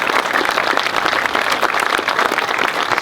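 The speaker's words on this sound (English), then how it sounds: "Massive round of applause for both of their public speaking." Wedding guests applaud together in a steady, dense burst of clapping that fills the room evenly from start to finish.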